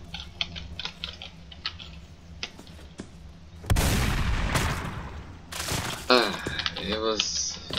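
Cannon fire in a ragdoll video game booms in a loud burst, among scattered clicks and crackling game effects, with a sweeping whistle-like tone near the end.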